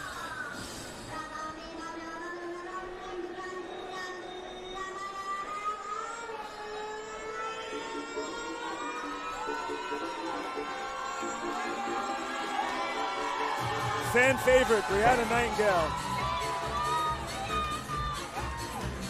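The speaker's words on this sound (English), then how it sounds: "It is a raucous crowd." Raucous crowd at a packed Flex Fight Series fight night roaring and cheering steadily throughout, swelling louder near the end, with an announcer talking over it.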